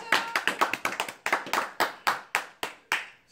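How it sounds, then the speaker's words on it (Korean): A small group claps in rhythmic bursts during a Korean storytelling talk, sharp close handclaps in quick succession, then slower, evenly spaced single claps that gradually spread apart, with no voices over them. "박수 박수 박수!"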